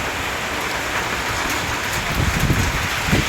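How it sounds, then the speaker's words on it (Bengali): Heavy rain pours down during a night thunderstorm with lightning, a dense, loud, continuous roar of drops hitting surfaces, with a few heavier splashes near the end. "কত বড় বড় ফোটা পড়েছে বৃষ্টির জলে"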